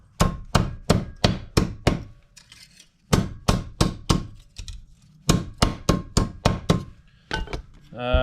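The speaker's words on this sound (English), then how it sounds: "I've cut a square patch, so I'll now hammer that dead flat" Hammer blows ring out as a square sheet metal patch is hammered flat in a shop, quick bursts of five or six sharp strikes, with brief pauses between sets, close and loud.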